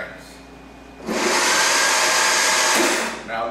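Mini metal lathe driven by a 750 W servo motor whirring up to speed, holding a loud steady whine for about two seconds, then spinning back down, with a quieter hum before and after.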